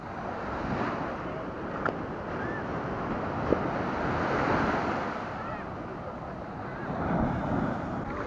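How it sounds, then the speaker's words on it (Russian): Huge ocean waves crash on a beach in Bali, a steady, full roar of surf with wind buffeting the microphone throughout and no clear breaks between the swells. "Вау! Вот это волны!"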